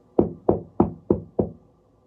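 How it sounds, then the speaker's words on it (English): Five firm knocks rap on the door of a room at the end of a kitchen corridor, evenly spaced and close, each sharp strike fading quickly before a short silence. "knocked once, twice, then louder"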